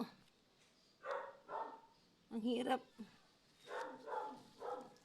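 A dog barks in short bursts, several barks spread across a few seconds, with a person speaking briefly between them.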